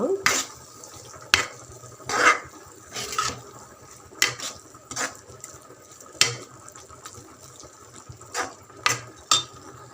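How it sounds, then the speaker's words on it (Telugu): A spoon stirring masala into okra kurma gravy in a pan, giving repeated scraping clinks and wet sloshing in an uneven rhythm, moderately close, over a faint background hum. "ఈ మసాలాలన్నీ గ్రేవీకి పడుతట్టు మంచిగా కలుపుకోవాలంట"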